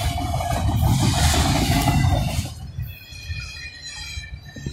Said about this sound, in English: Last car is about to end on the other train.